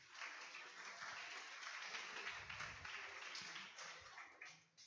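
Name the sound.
conference audience applauding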